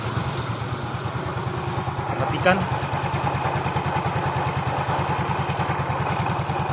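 Motorcycle engine idling steadily at normal tyre pressure of 42 PSI, a close, even rapid putter throughout with a person speaking over it.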